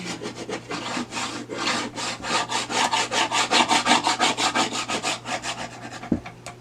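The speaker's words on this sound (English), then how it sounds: "let's go ahead now and just burnish it down" Vinyl being burnished down onto a wood blank sign, producing steady rhythmic rubbing strokes, close and fairly loud, repeating several times a second with a brief thump near the end.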